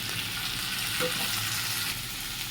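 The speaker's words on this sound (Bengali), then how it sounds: "দিয়ে ভালো করে নাড়াচাড়া করে নেব" Egg with chopped green chillies frying in a pan while being stirred, a soft continuous sizzle close by with faint scraping and no talking.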